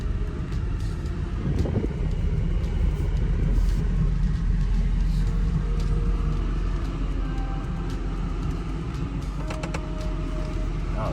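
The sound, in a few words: Mercedes SL550 car driving into a garage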